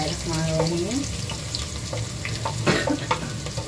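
Two medium onions, chopped, frying in a pot with oil, a loud continuous sizzle with occasional stirring scrapes, close and steady throughout.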